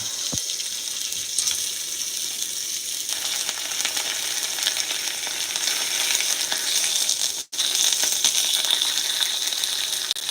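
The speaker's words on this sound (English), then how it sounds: "Look at it sizzle." Steady, dense sizzling of Kobe wagyu beef steak frying in a hot pan, a continuous bright hiss with no talking, briefly cutting out near the end.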